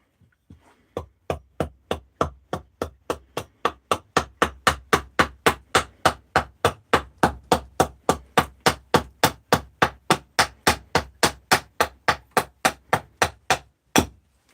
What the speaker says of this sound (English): all I'm doing really, doing that, is kind of just chiseling down, really.